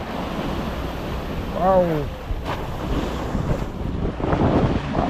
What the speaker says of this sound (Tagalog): maalon pa rin naman